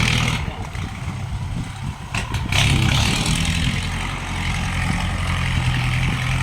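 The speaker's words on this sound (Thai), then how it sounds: "รถไถมาคือ ปรับหน้าดินให้ดูเลยครับผม" A tractor engine rumbles close by while it levels the soil at a modern house under construction, with a steady heavy drone and one brief surge of revving, and no voices.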